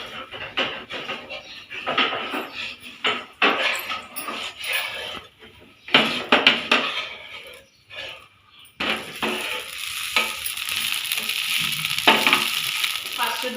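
Dosa batter sizzling on a hot pan at home, with continuous close frying hiss broken by scraping and clinking of a spatula and utensils, short pauses between bursts of activity.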